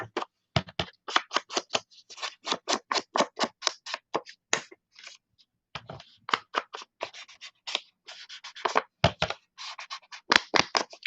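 Scissors snip paper for a fabric journal in a long run of close, crisp cuts, quick bursts of snips separated by brief pauses, with no talk over them.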